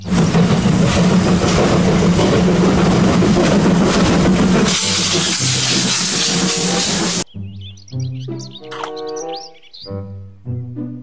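A Thomas toy train lets out a loud, continuous steam-like hiss for several seconds, followed by shorter toy tones and bursts of high electronic chirping.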